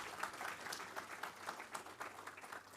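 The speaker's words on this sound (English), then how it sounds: "a big round of applause for your patience" Graduates and guests applaud at a Class XII convocation ceremony, with a fairly quiet, even patter of many hands clapping at a distance.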